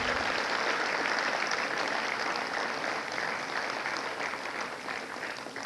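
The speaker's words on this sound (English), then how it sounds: "So I think you must give them a big round of applause." Sustained applause from the audience at a graduation ceremony, in honour of the faculty: a dense crowd of clapping that holds steady for several seconds before gradually easing, with no talking.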